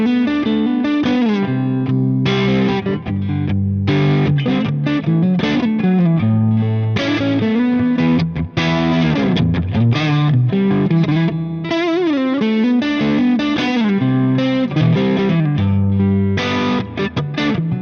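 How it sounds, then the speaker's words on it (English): Fender Stratocaster Player series electric guitar played in a vintage rock and blues style through distortion and effects, a loud, continuous run of overdriven notes and chords with no talking. "starting from vintage rock and rock blues sounds like this one."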